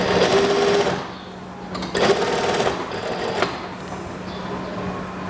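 A sewing machine stitching the cuff placket of a women's shirt, whirring steadily up close and then slowing into shorter runs with brief pauses, with no one talking.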